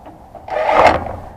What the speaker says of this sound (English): The old handy dandy impact.